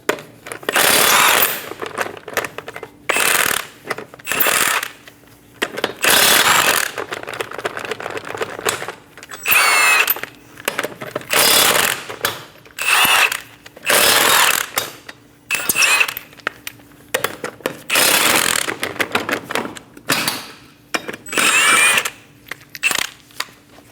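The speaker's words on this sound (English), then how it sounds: "Using a 21mm socket, remove the 5 lug nuts." Impact-style power tool with a 21mm socket spinning off the five lug nuts on a 2008-2015 Scion xB front wheel: repeated loud, rattling bursts of a few seconds each, broken by short pauses, with no talk.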